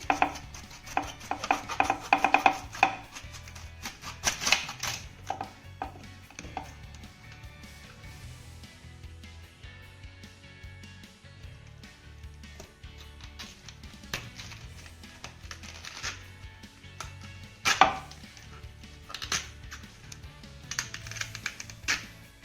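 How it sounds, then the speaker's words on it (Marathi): Knife chopping and cutting through a cabbage stem and pulling off cabbage leaves, with quick clustered chops and crisp taps separated by quieter stretches. "अगोदर आपण याचा देठ कट करूया म्हणजे पानं अगदी आरामात निघतील"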